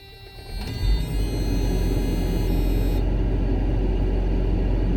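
A car engine idles and then revs up to a steady, loud rumbling run close by, with a high whine that cuts out partway through.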